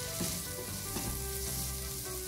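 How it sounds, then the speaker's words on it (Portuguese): Olives frying in rendered bacon fat, a close, steady crackling sizzle with small pops throughout. "quando a azeitona começa a fritar nessa gordurinha aqui, do bacon"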